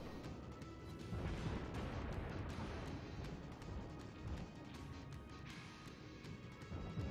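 Naval cannon fire in the video game World of Warships, heard as a dense rumbling barrage of booms and crashes that stays loud and sustained for several seconds, with no talk.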